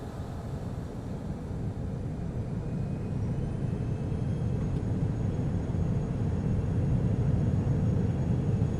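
Airliner engines spooling up for a takeoff roll: a steady, loud low roar that builds slightly over several seconds, heard from inside the aircraft with no talking.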